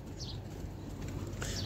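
Pigeons in a loft give soft cooing calls with a brief wing flutter, over a steady low background hum.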